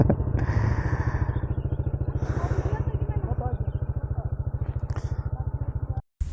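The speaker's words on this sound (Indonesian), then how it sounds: "Setelah beberapa menit motor dibawa jalan sama teman baru ini" A motorcycle engine throbs with a fast, steady pulsing beat near Kalitalang as the bike pulls away, some clattering and background chatter mixed in, ending in a brief dropout.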